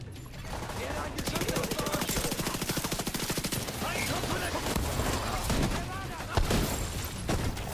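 Rapid automatic gunfire from The Division 2 video game rattles continuously at close range through most of the stretch, with dense repeated bursts and a few heavier thuds, under some talk.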